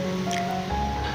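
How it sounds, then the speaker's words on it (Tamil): Cooked eggplant and tomato are mashed by hand, giving a short, wet, squelching sound over a steady background hiss. "கத்திரிக்காயையும் தக்காளியும் மற்ற வச்சு நான் நல்லா கடைஞ்சிக்கிறேன்"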